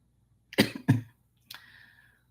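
Two sharp, close coughs in quick succession, followed by a softer third cough, with near silence around them.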